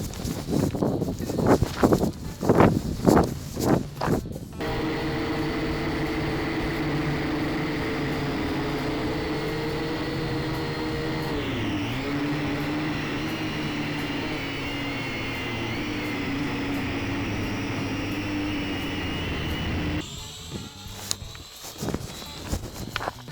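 A steady, high motor whine from a small Syma X5HC toy quadcopter hovers for a long stretch, with bumpy wind buffeting and rustling at the start and end.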